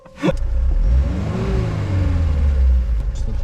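A car engine revs hard in first gear, a close, loud rising and falling roar held for a few seconds after a sharp start, with no speech.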